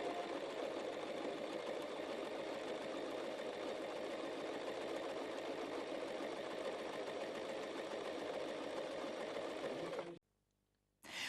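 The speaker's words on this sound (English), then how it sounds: "Now release the reverse lever and sew forwards." An Empisal Protea Elite sewing machine sews forwards with a close, steady, even whir for about ten seconds, then stops abruptly into near silence.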